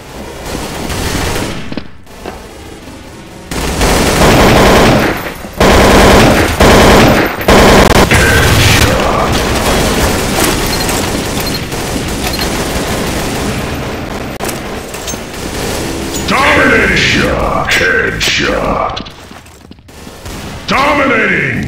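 Gunfire in a first-person shooter video game, with loud rapid automatic bursts and single shots layered over game music and effects, broken by short quiet gaps and ending with whooshing effects.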